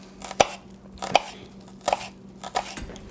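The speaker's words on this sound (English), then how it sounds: "So we're going to start by slicing the green onions" A knife slicing green onions on a cutting board, with four distinct, close chops at an even, unhurried pace against a quiet background.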